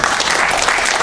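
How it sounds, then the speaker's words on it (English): An audience applauds the chair of a SWAN UK conference, a steady, dense wash of clapping that stays loud and even for about a second. "Fiona's going to get her rounds of applause later, but I'm going to give her one."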